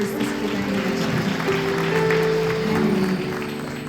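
A church congregation cheering and applauding for Jesus Christ, steady massed clapping with voices and sustained musical tones underneath throughout.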